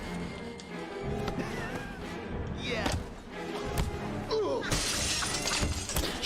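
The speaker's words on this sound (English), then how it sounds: "Shattering glass, I like it." Glass shatters in the video game Heavy Rain amid a busy soundtrack, with sharp crashing bursts and thuds breaking through steady music and effects, loud and close.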